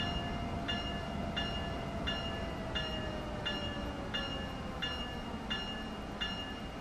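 An Amtrak ACS-64 locomotive in the Train Sim World 2 game rolls into a station with its bell ringing in evenly spaced strikes over a steady rumble of the train, all fairly quiet.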